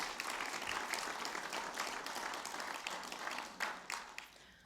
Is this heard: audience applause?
yes